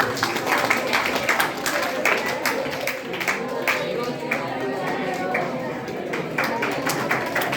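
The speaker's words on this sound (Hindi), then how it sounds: "एक बार पूरा विद्यालय परिवार उनको जोरदार तालियों से स्वागत करें" School audience giving loud applause at a literary event held at a Kendriya Vidyalaya, a sustained dense clatter of many hands with occasional sharper individual claps, steady in level and mixed with crowd noise.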